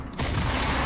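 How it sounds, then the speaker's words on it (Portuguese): A loot chest bursts open in Fortnite with a sudden loud blast that cuts in after a brief quiet moment and rumbles on densely, like rapid gunfire, with no talking. "Aí explodiu o baú"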